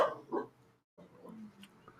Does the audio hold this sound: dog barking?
yes